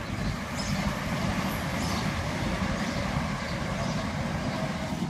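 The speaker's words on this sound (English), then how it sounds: "Train." Train rumbling across a bridge more than 100 years old, a steady loud low roar with faint rattling throughout, no talk.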